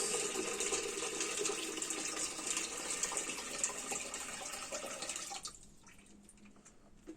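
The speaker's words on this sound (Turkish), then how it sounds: "suyumuzu boşaltmak için şu anda suyumuzu içerisine boşaltacağız" Aquarium water poured out while draining the tank, a steady gushing stream that runs for about five seconds and then stops, leaving quiet drips.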